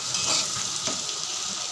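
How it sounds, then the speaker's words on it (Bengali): Potatoes fry in a pan for aloo posto while being stirred, a bright steady sizzle broken by soft scraping strokes of the spatula, close and alone. "দেখুন বন্ধুরা, ভাজা ভাজা হয়ে গেছে"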